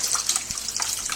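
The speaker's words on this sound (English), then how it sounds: "turn on that cold water right there." Cold water runs steadily from a tap in a hissing, splashing stream, close and continuous, while a catfish is being cleaned.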